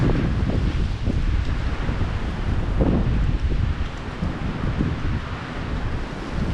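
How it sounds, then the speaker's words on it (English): Strong wind gusts through dense woods along an off-trail route in New York State, producing a loud, continuous roar with rustling leaves and buffeting against the microphone. "The wind's picking up again."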